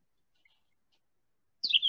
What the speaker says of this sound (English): The purple finch is also not as common, but you can see them moving in and out. Notice the song,